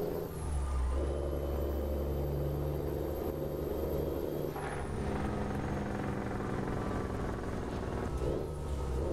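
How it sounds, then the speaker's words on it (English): A custom classic truck in American Truck Simulator running at speed, its engine brake giving a steady, loud low rumble throughout, with a high whine that rises and falls and no talking. "Not that bad of a Jake brake."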